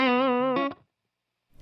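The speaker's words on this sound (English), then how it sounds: "So the first lick that I usually play, and I call this an anchor lick because it kind of gets me started" A single rake-picked electric guitar lick with effects rings out loud and sustained with a sharp second attack, then cuts to near silence before a faint new note begins.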